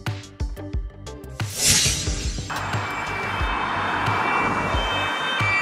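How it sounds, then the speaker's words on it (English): A police car siren wails steadily at moderate loudness, a rising sweep settling into a sustained tone that fills the second half of the clip. "Wow! Police car."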